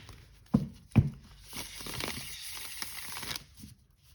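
Tarot cards with a matte finish being riffle shuffled, two sharp close taps followed by a soft, steady fluttering rush of cards interleaving, quiet and alone.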